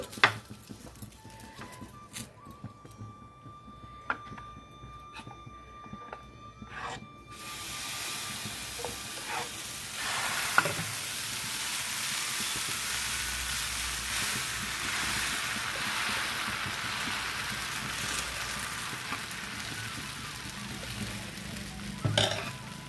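Dosa batter hits a hot pan after a few sharp clinks of utensils. A steady, moderate sizzling hiss then fills the rest of the clip, with no talking.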